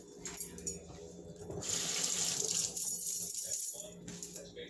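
Tap water runs into a kitchen sink while food is rinsed, starting after a few soft clinks and rushing steadily for a few seconds before tapering off, fairly quiet and close.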